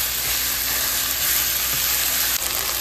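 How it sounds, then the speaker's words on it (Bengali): Chicken pieces seasoned with lemon juice and black pepper are sautéed in a pan, giving a steady, close, broadband sizzle throughout with faint stirring scrapes and no voices. "এবার এই চিকেনটাকে আমি ভালো করে এর মধ্যে কষাবো।"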